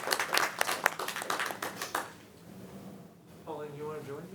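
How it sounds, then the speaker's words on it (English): A round of applause at a city grants advisory commission meeting in Roseville, California starts as quick, fairly close hand claps and fades out after about two seconds, followed by talk. "I think we owe you a round of applause."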